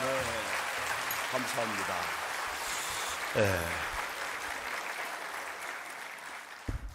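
Church congregation applauding during a Methodist revival service, a broad wash of clapping running steadily under a voice on a microphone, fading toward the end.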